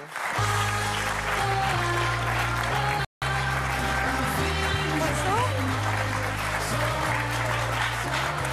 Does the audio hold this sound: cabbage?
no